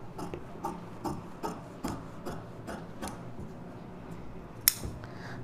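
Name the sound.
scissors cutting blouse fabric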